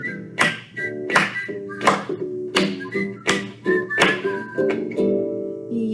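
Children whistle notes that rise and fall in a playful tune, several together, with soft taps and thumps keeping a rough beat between phrases.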